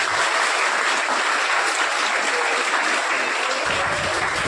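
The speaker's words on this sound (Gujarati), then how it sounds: "આપણે તાળીઓ પાડીને આને છે પ્રોત્સાહિત કરશું." Audience applause at a Rajput community prize distribution ceremony: dense, steady clapping from a crowd, loud and continuous throughout with no break.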